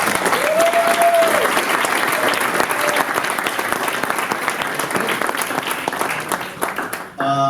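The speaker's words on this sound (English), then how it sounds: "So I would ask you just to please applaud the sponsors," Audience applause for the sponsors at a startup demo day event in Lisbon, a steady, dense clapping sustained for about seven seconds and fading slightly at the end.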